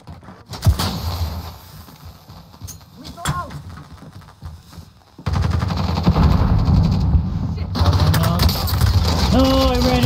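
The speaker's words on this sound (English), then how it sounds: "I got shot at from behind." Gunfire in Call of Duty Warzone, loud close shots and rapid automatic bursts over dense game noise, continuing throughout as players talk over it.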